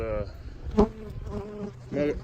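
Bees buzz faintly around the listener, a soft fluctuating drone with a louder pass near the start and another toward the end.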